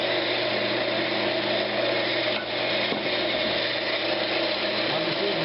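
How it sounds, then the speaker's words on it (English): A bowl gouge roughs down a Brazilian cherry lidded box blank on a wood lathe, a steady, dense whirring and scraping hum that holds constant and close, with a brief dip near the middle. "I'm just using my bowl gouge."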